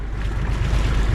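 Steady roar of surf and wind, a continuous low rumble of large waves breaking nearby with no voices.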